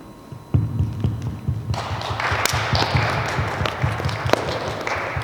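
A small audience claps at a Life Night youth gathering: scattered hand claps build into a steady round of applause with a low rhythmic thumping underneath, moderately loud and close.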